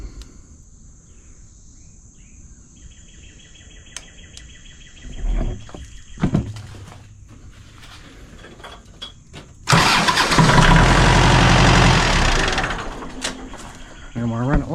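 A 4-cylinder diesel engine cranks briefly and then fires up on a LIFMOCER GS300 jump starter, settling into a loud, steady clattering idle, with birds chirping in the background and a voice speaking at times.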